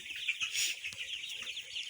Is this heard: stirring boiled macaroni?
no